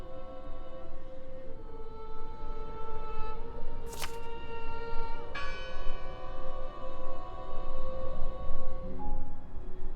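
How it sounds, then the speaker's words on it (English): A church bell rings in the video game Draugen, a few clear, resonant strokes with long ringing overtones over a quiet outdoor ambience. "Listen! The bell!"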